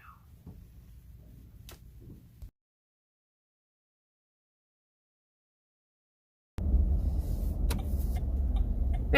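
Car interior sound while driving: a low steady engine and road rumble, quiet at first, then a few seconds of silence, then a louder, steadier drone with small knocks and clicks.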